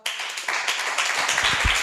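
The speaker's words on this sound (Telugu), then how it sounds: "ఇప్పుడు చరిత్ర బాగా అర్థమైన చప్పట్లు కొడతారా?" Audience at a Bible study session claps briefly, a loose patter of hands that thickens toward the end of the short burst.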